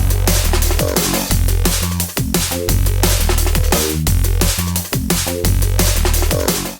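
A loud, dense wavetable synthesizer groove with sweeping, shifting timbres over a thumping low bass line and steady percussive hits, no voices.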